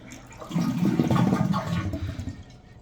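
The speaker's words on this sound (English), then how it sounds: "flush the toilet and hold the handle down until all the water is out completely" A toilet flushes with its handle held down during replacement of an old flush valve and flapper, giving a loud, continuous rush and gurgle of draining water that lasts a few seconds before tapering off.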